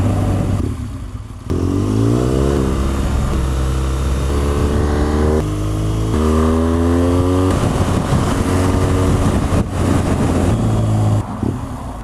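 A motorcycle rides at speed with a loud, close engine note under wind roar, rising and falling through repeated gear shifts.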